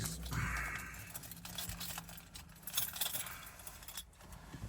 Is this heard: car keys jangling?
yes